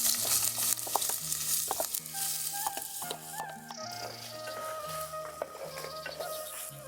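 Chopped onion is added to hot oil with cumin for a red lentil dal, giving a soft, steady sizzle with occasional stirring clicks and background tones.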